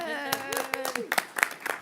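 A few people at a city council meeting clap briefly for the Helen Putnam Award, a short, sparse patter of hands that follows a voice speaking and fades quickly.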